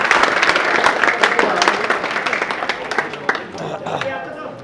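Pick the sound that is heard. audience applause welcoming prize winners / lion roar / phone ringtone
audience applause welcoming prize winners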